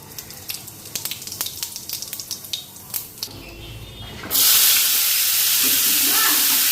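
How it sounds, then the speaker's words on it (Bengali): Cumin seeds hit hot oil in a kadai for tempering: a few sharp taps and clinks first, then a sudden loud, sustained sizzle that stays strong and close to the end. "জিরা ফোড়ন দিয়ে নিই"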